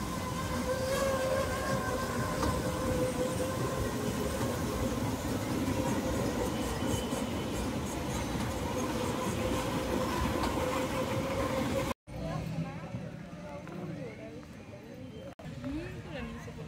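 An amusement park ride train rolls along its rails with a steady rumbling drone and faint clatter, then the noise drops to a quieter background rumble near the end, and a person talks over it.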